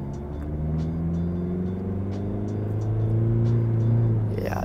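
A car engine in first gear during a driving lesson drones steadily and revs too high, its pitch climbing slightly as it holds a loud, sustained whine from the cabin, with no one speaking.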